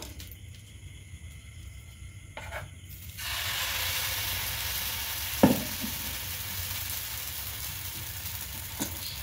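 Batter of wheat flour and semolina goes into hot white oil for a breakfast dish. After a quieter start it breaks into a steady sizzling hiss, with one sharp clatter partway through and a faint click near the end.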